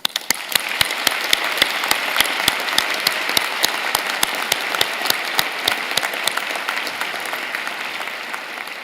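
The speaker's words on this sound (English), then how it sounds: "join me and the platform party in thanking them with a vigorous round of applause" An audience at a fall university convocation applauds steadily for several seconds, a dense crowd of clapping hands with some sharp individual claps standing out.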